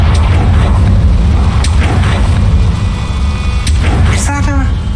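A Confringo blasting spell goes off in Hogwarts Legacy, a deep rumbling boom that holds steady and loud throughout, with a few sharper cracks and a short whooshing flourish near the end.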